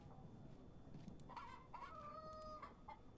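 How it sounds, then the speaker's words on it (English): A rooster crows in the Yes Your Grace video game, a faint farmyard call with clucking tones rising over quiet background ambience. "But the rooster went off."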